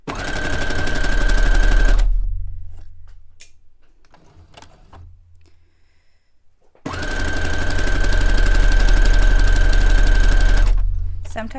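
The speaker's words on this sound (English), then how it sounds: "But let me sew all my seams and then I'll press them." A sewing machine runs loud and close while sewing pant seams, a steady motor whir and rapid needle knock in two long bursts separated by a quiet pause.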